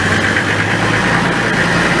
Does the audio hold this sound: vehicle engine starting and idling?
yes